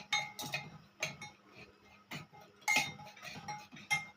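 A spoon stirs baking soda into idli batter, tapping and clinking against the bowl in short, uneven bursts with quieter scraping between them, heard up close and without talk.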